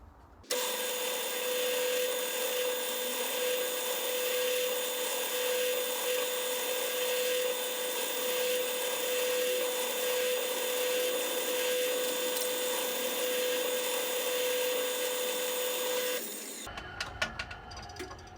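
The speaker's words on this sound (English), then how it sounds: "So now I can just concentrate on lining up each one and just drill to the depth" A drill whines at a steady pitch for about sixteen seconds while boring holes to a set depth into wood for a Telecaster-style guitar build, then stops, followed by light clattering.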